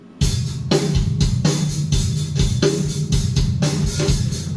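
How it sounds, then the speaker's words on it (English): A recorded drum track for a song plays back loud and close, with a steady rock beat of punchy kick and snare hits under crashing cymbals and no voices. "we have a drum track that sounds like this"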